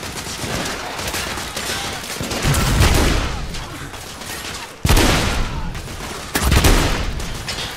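Gunfire in the video game The Order: 1886 is a dense, rattling barrage of shots with a few louder, sharper blasts that stand out near the middle and toward the end.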